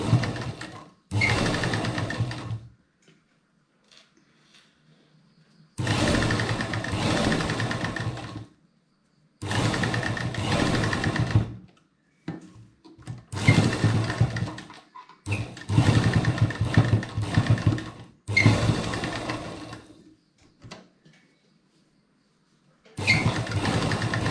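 A sewing machine stitches a fabric face mask in several loud bursts of rapid running, separated by short quiet pauses, close up with no talking.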